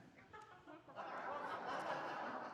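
A hen clucking in a quiet run of clucks, soft at first and then steadier and fuller, with no talk over it.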